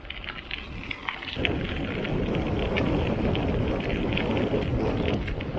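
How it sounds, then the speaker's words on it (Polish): Steady, close crunching and rustling of gravel under rolling bicycle wheels, continuous throughout with no voices. "Jaki przyjemny ten szelest żwirku pod kołami."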